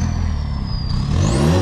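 A SEAT Ibiza 6L with a turbo, aftermarket suppressor and exhaust line revs up close by, the engine note climbing steadily with a rising turbo whistle over it, loud and alone.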